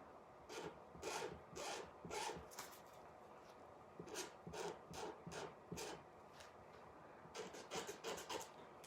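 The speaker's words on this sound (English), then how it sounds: "can you hear that scraping noise? That is just me." A wood-burning pyro pen scrapes across painted wood used with stencils, giving a soft, close, rhythmic rasping of short repeated strokes with brief pauses, faint and without speech.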